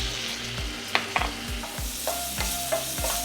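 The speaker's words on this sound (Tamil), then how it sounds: "பட்டரில் மஷ்ரூம் ஒரு 1 மினிட் குக் பண்ணிக்கோங்க" Mushrooms fry in butter in a pan over high flame, a loud close sizzle with repeated scraping stirs of a spatula and a few sharp clicks, no voices.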